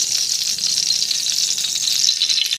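Tomato pieces fry in hot oil with a constant bright, close sizzle and crackle that holds steady the whole time, with no talking.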